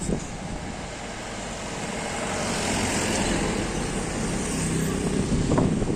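A car driving just ahead on a street approaching the main square in Aizawl, a steady engine and road rumble that grows slightly louder over several seconds, with no talking.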